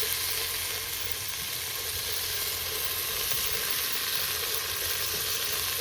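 Masala spices and green chillies frying in a pan for Maggi noodles, giving a steady, dense sizzle that holds without a break and sounds close and fairly loud.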